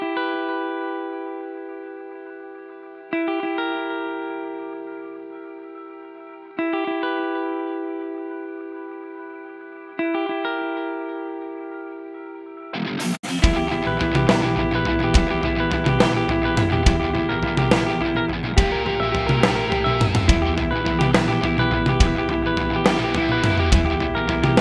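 A Dean 850x eight-string electric guitar plays four ringing chords through an amp, each left to decay, then switches to a dense, heavily processed distorted tone with steady chugging riffs.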